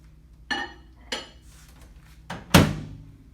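A bowl holding a large potato is set into a microwave, giving a few distinct clinks and knocks of dish against surfaces, ending in one louder ceramic clunk close by.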